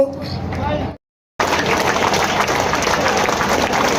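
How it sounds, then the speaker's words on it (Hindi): At a Mumbai street hawkers' rally, a voice speaks briefly, then after a short silence a crowd breaks into steady, dense applause that continues evenly. "तालियां बजती रहे दोस्तों।"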